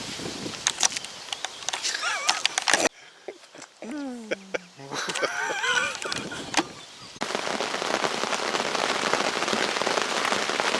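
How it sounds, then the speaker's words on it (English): Heavy rain pouring at a fishing lake, a dense hiss that dominates the final stretch, while earlier parts carry someone talking over rattling drops and other outdoor noises. "and it's pouring down."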